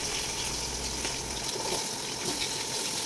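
Onion sizzles in hot oil in a pan for a veg dum biryani, a loud, dense, steady hiss close to the microphone.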